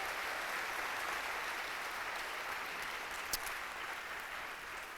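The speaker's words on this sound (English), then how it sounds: "Let's give a round of applause to all of our panelists and give them a big thank you." Audience at a single-payer town hall applauding the panelists, a steady wash of many hands clapping at moderate distance, fairly soft and even throughout.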